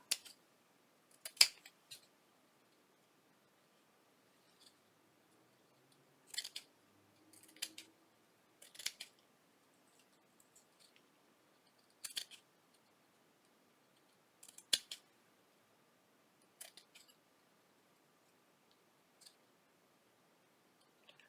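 Scissors snip through fabric scrap while stitching a fall-themed sewing project, a sparse series of short, crisp clicks and cuts scattered across a quiet room, close to the microphone, with no voices.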